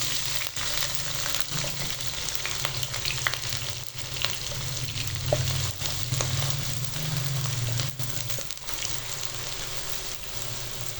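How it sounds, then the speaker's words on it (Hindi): Onions frying in hot ghee in a kadai, a loud continuous sizzle and crackle with occasional stirring scrapes, close and steady throughout. "घी गर्म हो चुका है, अब हम इसमें प्याज डाल लेते हैं।"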